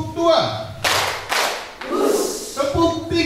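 An audience claps in unison during a counting clap game, producing two sharp, loud bursts of clapping separated by a pause, with a voice talking between them.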